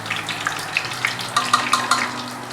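Onions sizzling in hot ghee as they turn light brown, a steady crackling fry with small popping bursts close by and no voices.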